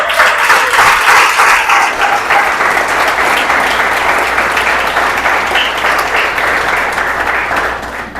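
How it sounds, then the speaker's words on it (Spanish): Church congregation at an evangelical service gives sustained, loud applause, a dense even wash of clapping that carries on for several seconds before tapering slightly at the end. "Un aplauso al Señor."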